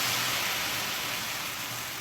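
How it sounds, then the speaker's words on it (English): Cranberry sauce sizzles in a pan as a dense, steady hiss and crackle close up, continuous and even throughout with no voices. "See, it sizzle, sizzle, sizzle away."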